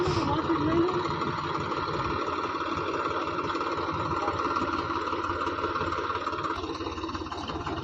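A tractor engine idles steadily at close range with an even low rumble, continuing unchanged throughout.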